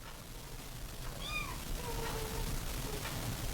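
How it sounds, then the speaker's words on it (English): Kittens from a newborn litter mewing faintly in the background of an indoor room, a few thin high cries spread across the moment over low steady room noise. "If you hear meowing or mewing in the background, that's our litter of kittens"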